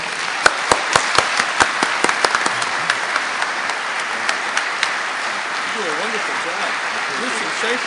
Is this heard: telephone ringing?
no